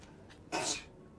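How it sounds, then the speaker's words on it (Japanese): A single sharp sneeze bursts out mid-clip, loud against a quiet background, with nothing else around it. "すいません。 くしゃみが"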